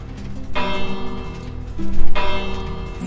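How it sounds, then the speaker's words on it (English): A Minecraft redstone time bell rings in a video game, sounding two loud metallic strikes about a second and a half apart, each with a long shimmering decay, with no talking. "This is a time bell."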